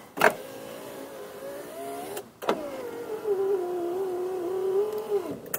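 Electric power window motor on a 1991 Suzuki Cappuccino EA11R Turbo with the engine off, whirring slowly and steadily through two runs, each ending with a soft thunk as the glass stops, close and clear with no talking.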